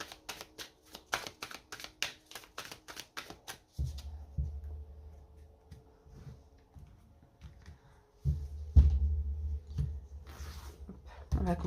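Tarot cards being shuffled, first in a quick run of crisp riffling flicks, then softer slides and taps as the deck is handled and laid out, close and fairly quiet.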